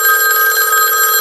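A telephone rings loud and steady through a Super Shady Switcher 2000 switchboard, a continuous electronic bell tone with no other sounds.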